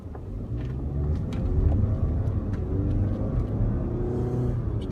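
A 2016 Kia Sorento is driven through corners, heard from inside the cabin as a steady engine drone and road rumble that swells slightly midway as it accelerates. There is no talking.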